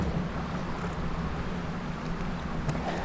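Steady, loud wind buffets a fishing boat on open water during smallmouth bass fishing, a constant broadband rush with no other clear sounds.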